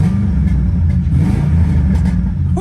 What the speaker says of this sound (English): Can we give it a little rev?